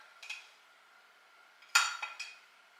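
A spoon stirs biscuit batter with sausage and cheese in a bowl, giving a few light clinks and scrapes against the bowl, with one louder knock near the end and quiet pauses between.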